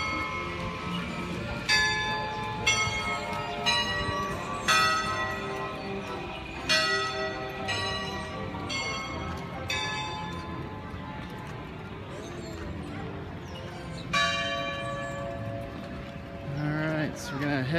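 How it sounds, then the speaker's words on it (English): Bells chime in a steady series of ringing strikes at Pinocchio's in the Magic Kingdom, moderately distant, with murmured voices and park ambience underneath throughout. "The bells and Pinocchio's is chiming."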